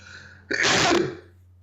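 A single loud, close sneeze bursts out over a steady low hum, lasting about half a second before fading.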